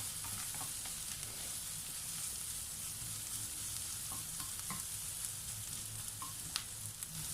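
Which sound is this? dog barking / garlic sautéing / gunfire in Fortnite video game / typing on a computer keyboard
garlic sautéing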